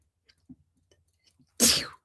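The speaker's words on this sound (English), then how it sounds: "I think I have to sneeze." After a few faint breaths and small mouth noises, one loud, sharp sneeze bursts out close up, then fades quickly.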